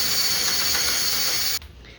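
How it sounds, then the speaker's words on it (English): A power drill bores into soft wood while building a budget kitchen island, a steady high whirring grind held for about a second and a half before it abruptly cuts off, leaving quiet room tone. "So he's gonna try to drill out whatever this was so that we can get this in"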